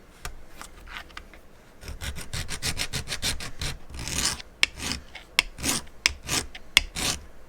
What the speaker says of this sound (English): So, sharp screw test, move it on the floor.